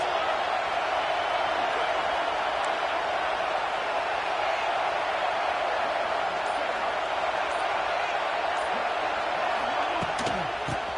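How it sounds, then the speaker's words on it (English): A dense stadium crowd roars steadily throughout an Ohio State football game against Notre Dame, a loud, continuous wash of noise with no break. "This crowd trying to make life miserable for this offense."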